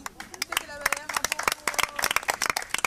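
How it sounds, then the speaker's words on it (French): A small group claps in quick, uneven bursts, with voices and a bit of chatter mixed in among the hand claps. "Applaudissez les amis."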